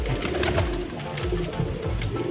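Domestic homing pigeons at their loft give low, soft coos over a steady background hum, with several overlapping calls spread across the clip and no voices.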